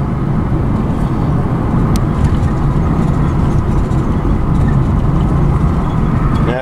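Rattling and thumping from worn-out shocks inside a car on the move, a steady loud rumble of road and suspension noise with scattered knocks that continues throughout.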